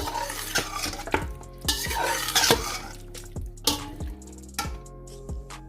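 Mutton is stir-fried in a metal pot for Kabuli pulao, with repeated sharp clanks and scrapes of a ladle over a light sizzle, irregular and close.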